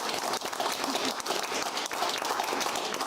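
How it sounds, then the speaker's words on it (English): Studio audience applause on a talk show as comedians are introduced, a full, even burst of clapping with a few scattered whoops, loud and close throughout. "Let's have a round of applause."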